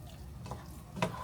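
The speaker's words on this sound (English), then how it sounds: "We're going to stir it up." A spoon stirring beef and broccoli in sauce in a hot pan, soft scraping with a faint sizzle and one brief clink, quiet and close.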